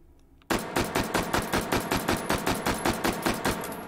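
Rapid semi-automatic H&K SP5K fire with a compensator fitted in the VR game H3VR, about fifteen sharp, evenly spaced shots starting abruptly after a quiet moment and continuing loud and steady.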